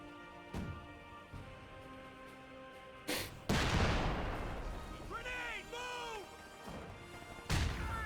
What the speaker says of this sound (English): Smoke barrage from the US player, I'm guessing.